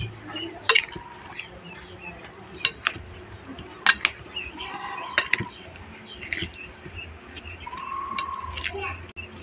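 Starfruit (carambola) pickle being mixed by hand with spices and oil, giving soft squishing and wet smacking with a few sharp clinks of a pot or utensil, close and moderately quiet, with faint birdsong in the background.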